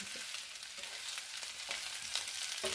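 Potatoes frying in a pan with bacon: a steady, close sizzle with soft scraping and clinks as they are stirred, and no one talking.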